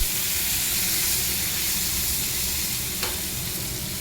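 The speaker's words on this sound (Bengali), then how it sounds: "আলুটা আগে একটুখানি ভেজে নেবো" Potatoes fry in a pan with a loud, continuous close-up sizzle and hiss. One sharp utensil tap comes near the end, and no one speaks.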